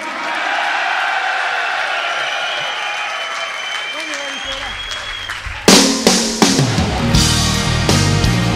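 A live rock concert crowd cheering and whooping with sustained applause, followed by the band's loud opening drum hits and guitar chords crashing in over the noise.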